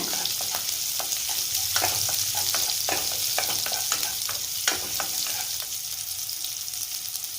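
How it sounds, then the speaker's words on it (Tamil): Garlic, dried red chillies and curry leaves sauté in hot oil, a loud close sizzle broken by frequent scraping stirs of a spatula against the pan, with no one speaking. "இதையெல்லாம் சேர்த்து நல்லா இந்த எண்ணெயில் வதக்கி விடுங்க."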